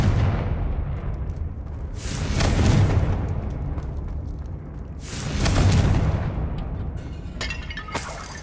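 Two heavy blasts from the Confringo blasting curse in Hogwarts Legacy, each a swelling boom with crackling debris that fades out, roughly three seconds apart, followed by a sharper burst near the end, with no talking.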